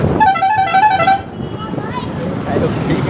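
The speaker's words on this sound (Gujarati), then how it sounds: "જો ગાઈસ મેં હોર્ન મારી" A vehicle horn sounds in a rapid series of short toots in roadside traffic, loud and close, followed by general street noise.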